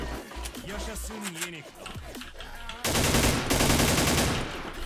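An HK rifle in the online shooter Wolfteam rattles off a dense, loud burst of automatic fire in the second half, preceded by a player talking.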